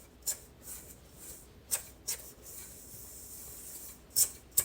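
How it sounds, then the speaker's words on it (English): A utensil scrapes and breaks up brown sugar with cinnamon and nutmeg in a bowl, giving a few short, crisp rubbing strokes close up, spaced irregularly over a quiet background. "I'm breaking up the brown sugar"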